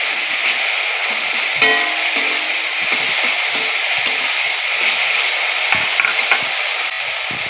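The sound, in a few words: green chillies added to frying tomato paste in pan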